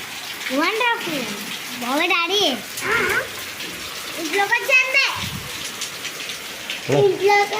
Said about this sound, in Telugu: బయట అయితే వర్షం పడుతుంది మేబీ